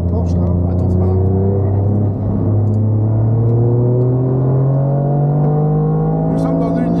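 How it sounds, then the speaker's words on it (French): Toyota GR Yaris racing on the Le Castellet circuit, heard from inside the cabin as the engine holds a loud, steady drone and its pitch climbs smoothly under hard acceleration throughout. "Nous sommes dans une Yaris et on va se bouffer une Porsche GT3."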